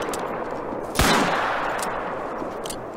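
One loud gunshot rings out while hunting pheasants in the video game theHunter, sharp and close, with a brief fading tail and faint softer pops after it.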